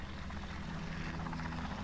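A rescue helicopter hovers over the floating Mercury Liberty Bell 7 capsule, its steady rotor drone and low engine hum loud and continuous without a break.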